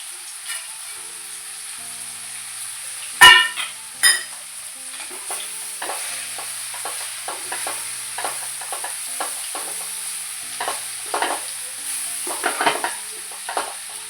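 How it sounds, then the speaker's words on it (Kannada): Chili powder, garam masala, coriander powder and roasted gram fry in a pan for a country-style chicken curry, with a soft steady sizzle, two loud metal clanks early on, then repeated scraping stirs. "ಈಗ ಖಾರದ ಪುಡಿ ಸ್ವಲ್ಪ ಫ್ರೈ ಆಗಿದೆ, ಸಾಕು."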